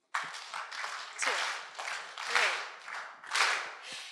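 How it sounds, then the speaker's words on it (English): Guests at a wedding at Eau Palm Beach clap along in bursts that swell and fade roughly once a second, mixed with crowd noise and voices, moderately loud throughout. "If everyone could clap along with us"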